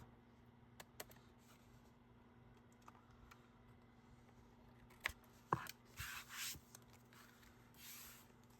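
Scissors snip through excess pattern paper while a handmade Halloween card is made, giving a few quiet, close cuts and rustles, then a short run of brisk trimming snips and paper rubbing with no voice over them.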